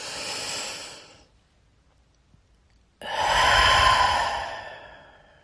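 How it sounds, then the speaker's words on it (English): A slow, deep breath in a guided breathing exercise: an audible breath, a quiet pause of nearly two seconds, then a longer, fuller breath swelling and fading, close and alone. "Just come back into our body with a cute little breath for ourselves."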